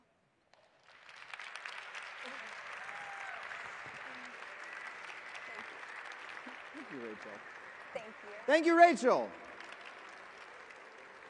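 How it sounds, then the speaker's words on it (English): An audience at the Regeneron Science Talent Search Seaborg speech event claps in steady, even applause for several seconds, heard at a moderate distance, while a nearby voice speaks briefly over the end of it. "One more round of applause for her, please"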